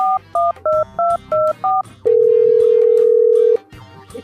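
A telephone being dialed: six quick two-tone keypad beeps in an even rhythm, then a long steady tone, loud and close, with no talking.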